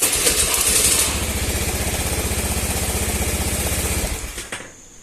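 Motorcycle engine fitted with a Star Tech v.4 box running close up with rapid, even firing pulses, then dying away and cutting off near the end.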